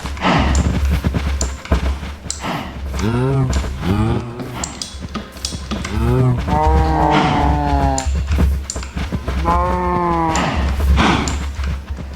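Cows low in a Minecraft cow farm. A run of loud, close moos overlaps and repeats, some short and some long and drawn out, with soft clicks and game noises between them.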